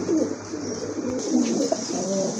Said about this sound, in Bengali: পার্সোনাল খাঁচায় কবুতর আনলে যে কি পরিমাণ ডাকে